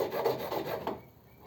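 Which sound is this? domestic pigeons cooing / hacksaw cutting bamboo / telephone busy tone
hacksaw cutting bamboo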